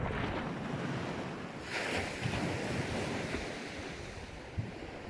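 Steady wind and gentle sea swell wash over an evening beach at Brook Chine on the Isle of Wight during a fishing session: a continuous broadband roar that surges slightly around the second mark, with a brief knock near the end.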